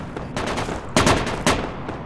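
Rapid machine gun bursts in the Project Reality video game, set in the Falklands battle for Goose Green: a dense, continuous rattle of gunfire with two louder, sharper volleys standing out near the middle.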